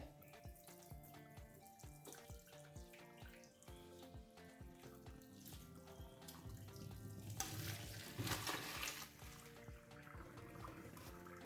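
Al dente spaghetti drained in a kitchen sink, a short rushing splash of water partway through, faint under rhythmic background music.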